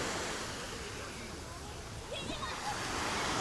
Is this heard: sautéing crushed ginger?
no